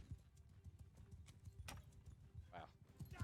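Horse hooves galloping in the video game Bannerlord, a rapid, continuous clip-clop close by with game noise around it and a brief voice partway through.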